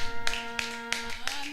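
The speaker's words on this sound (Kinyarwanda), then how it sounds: "turashaka gukomera amashyi menshi uwo mwami." A church congregation clapping hands in a slow, steady beat, four sharp claps heard over a sustained musical drone in the background.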